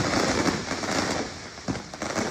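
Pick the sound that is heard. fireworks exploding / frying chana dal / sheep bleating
fireworks exploding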